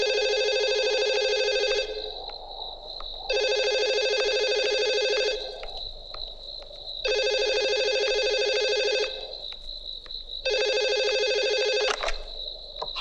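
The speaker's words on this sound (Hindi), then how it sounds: "ये बार बार यहां फोन काहे को करता है?" A telephone rings in four long, loud bursts with short pauses between them, heard alone in a film scene.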